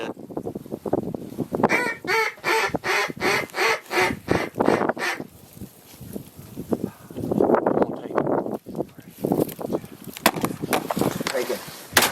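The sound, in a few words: ducks quacking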